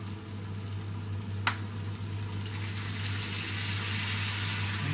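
Pork frying in a pan for Filipino pancit as soy sauce goes in, a steady close sizzle with a low constant hum beneath and one brief sharp tick, no talking.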